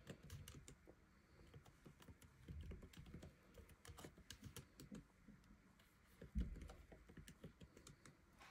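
Fingers typing on a computer keyboard, a quiet, steady patter of key clicks with irregular rhythm, close and soft over faint background noise.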